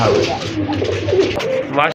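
Close pigeon cooing runs throughout, low throaty rolling calls, with some voice-like sounds mixed in.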